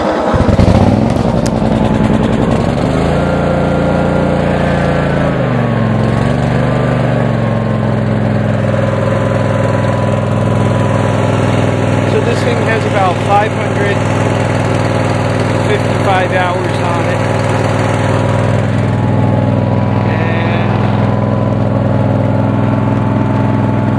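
Cub Cadet RZT50 riding mower with a 22HP Kawasaki engine, cold-started in spring after sitting for a year. It runs close and loud at a steady idle, with brief shifts in engine speed and no talk.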